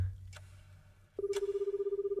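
A telephone ringing in a Touhou fangame: a steady electronic trilling tone starts abruptly after a short lull and pulses rapidly at an even rate, fairly clear and close.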